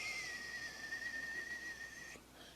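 A person whistles a long, steady tone imitating the wind of a storm, a single sustained whistle that drifts slightly in pitch and cuts off abruptly near the end, close and fairly quiet with no speech.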